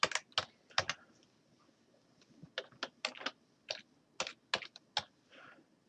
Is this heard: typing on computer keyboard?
yes